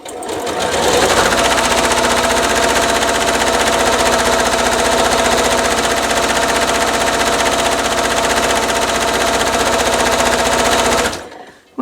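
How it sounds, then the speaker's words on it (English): A sewing machine runs steadily for about eleven seconds, stitching a quarter-inch side seam on a churn dash quilt block. The close, loud, even mechanical whirr keeps a continuous rhythm before stopping abruptly at the end. "I'm just going to sew down the side 1/4-inch seam."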